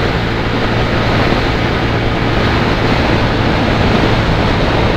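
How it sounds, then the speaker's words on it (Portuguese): Heavy wind near Pedra de Ladainha, Brazil, blasts the microphone in a dense, continuous roar that never lets up. "Tá ventando pra caramba hoje também."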